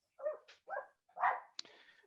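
Dogs bark indoors in a few close, sharp bursts with short gaps between them, ending in a quick yip and a trailing whine.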